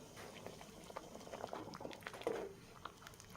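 Village-style spicy drumstick amti curry simmers in a pot, giving faint, quiet bubbling pops and soft liquid patter at an irregular rhythm, close by, with no voices.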